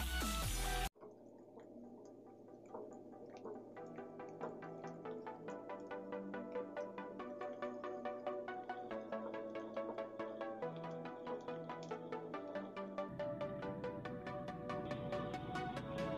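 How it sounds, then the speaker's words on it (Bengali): Onions fry in a pan for poha polao (chirer polao), giving a steady, quiet crackle of fine sizzling pops that follows a brief loud burst at the start. "এবার দেখো পেঁয়াজগুলো দিয়ে দিচ্ছি, এবার ভালো করে ভেজে নেব।"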